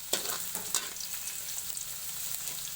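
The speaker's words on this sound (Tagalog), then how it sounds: "So, ito po talagang gagawin po natin ay iba-brown natin talaga ang Golden bawang." Chopped garlic sizzles and fries in a pan while browning for sautéed water spinach, a close, crackling hiss with small popping bursts and quiet stirring.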